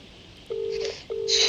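A telephone in a video game rings or dials with two steady electronic tones, each about half a second long and separated by a short pause, heard clearly with no talking.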